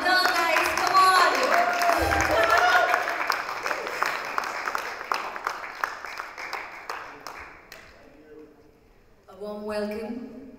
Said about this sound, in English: claps have to be louder, guys.